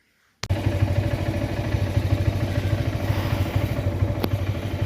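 A motorbike rides along a road, its engine starting abruptly and then running in a close, steady, rapid throbbing putter with faint clatter, loud and without talk.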